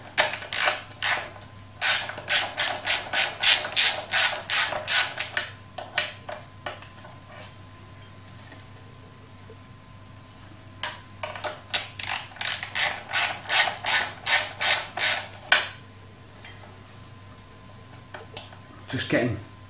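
Ratchet clicks come in quick rapid bursts, near and crisp, as new 10mm head bolts with washers are tightened on the rocker cover of a Ford Cortina Mk3, with quiet pauses between runs.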